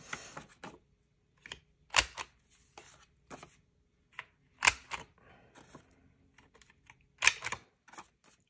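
A small quarter-inch paper punch with a dulling blade cuts paper in scattered sharp snaps and clicks, close and fairly quiet, with pauses between each press and no talking.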